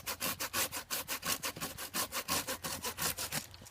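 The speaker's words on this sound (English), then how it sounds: "we're going to go above it, and we're going to cut that branch off" A hand saw cuts off a tree branch during pruning, making crisp, regular rasping strokes in quick succession, close and loud, around fifteen even pulls before stopping, with no voices.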